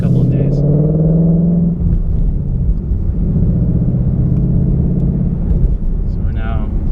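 A 2018 Mustang GT with a Roush resonator-delete X-pipe cruises along, its exhaust giving a steady, deep low rumble that holds constant throughout, heard from inside the car.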